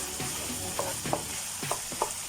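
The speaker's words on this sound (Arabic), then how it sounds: "هنزل عليها بمعلقه كبيره من الخل واديها تقليبه" Alexandrian-style beef liver stirred in a hot pan after a spoonful of vinegar goes in, giving a steady close sizzle broken by several short scraping stirs.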